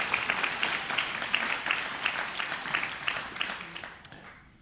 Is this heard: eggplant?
no